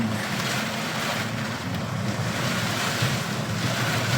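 Strong wind and rain from Typhoon Kristine in Lipa City, Batangas, a continuous loud roaring rush with heavy wind buffeting on the microphone and no voices.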